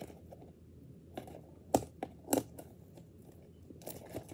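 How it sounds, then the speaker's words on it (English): Scissors snip through a blind box package for a Security Breach mystery mini figure, giving a few sharp, close cuts and crinkles against a quiet background. "Yeah, I'm going to use the scissors again."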